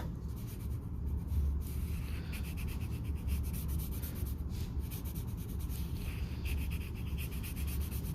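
A pencil pressed hard while shading a sphere on paper: a steady, close, continuous scratchy rub with quick back-and-forth strokes, and no voice over it.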